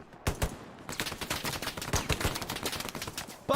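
Sustained gunfire in the WWII shooter Hell Let Loose during an 18-versus-18 tournament match, with many overlapping sharp shots and bursts at varied distances, some close and loud, others farther off, continuing steadily throughout.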